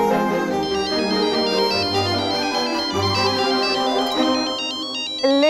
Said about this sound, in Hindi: दीदी जिन्हें इतनी शिद्दत से याद कर रही थी, उन्हीं का फोन आ गया।